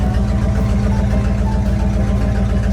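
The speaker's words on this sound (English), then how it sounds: "Running all right considering just how badly it's smoking, but nice and loud." A Ford Galaxie's engine idles with a loud exhaust while the car is smoking badly, a steady, heavy low rumble with pulsing exhaust throb, close and continuous throughout.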